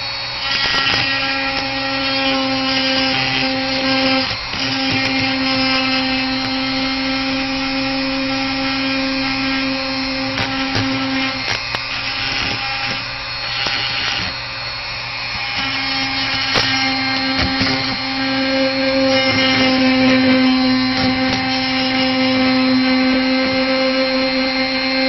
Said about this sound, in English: But I'm actually re-sculpting slightly. Just with a Dremel.